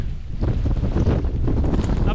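Strong wind blusters across a flat, open plain in the Lake District during a storm, buffeting the microphone in a close, continuous rumbling roar.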